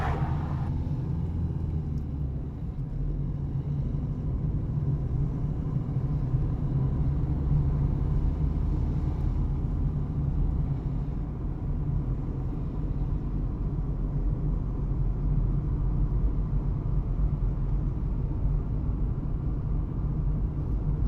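A car pulls away on a driving test with a low, steady engine rumble and road noise, close and continuous inside the cabin, no talk.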